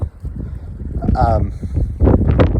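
Wind buffets an outdoor camera microphone in low rumbling gusts, with a voice speaking over much of it and a brief whistling tone partway through.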